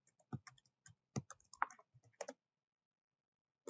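Someone types a password on a computer keyboard, giving a quick run of separate key clicks up close for about two seconds, then quiet.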